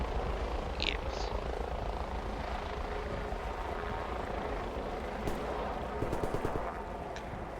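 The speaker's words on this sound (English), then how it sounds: "Chopper exiting your area." Helicopter in a shooter video game, a steady droning rotor wash holding throughout at moderate level, with a brief radio-style voice early and a few sharp crackles near the end.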